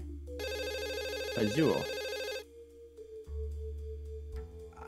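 Telephone ringing in a video game, a loud electronic ring burst followed by quieter tones, with a short voice interjection partway through.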